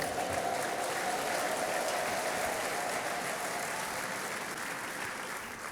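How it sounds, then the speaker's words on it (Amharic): A church congregation at an evangelistic service claps in a sustained, dense wash of applause with a high ululating trill rising over it near the start, the crowd noise fading slightly toward the end. "እልልታ፣ ጭብጨባ"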